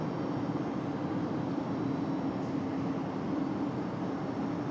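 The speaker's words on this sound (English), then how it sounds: "Got a Breeze Airways making their way out here." A Breeze Airways Airbus A220-300 taxis at Raleigh-Durham airport, making a steady, moderately loud rumble and whine that holds constant throughout, with no one talking.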